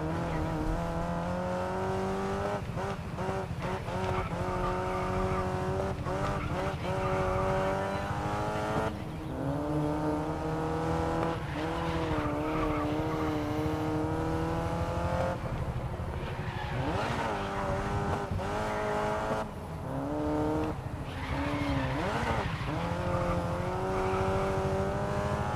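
Open-wheel race car in the GRID Legends racing game, its high engine whine rising and falling through gear changes and corners with occasional tire squeal, loud and continuous without speech.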